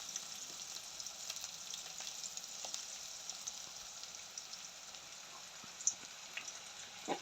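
Garlic fries in a pan for a crab curry with a soft, steady sizzle and small scattered crackles, faint and even, with no one talking.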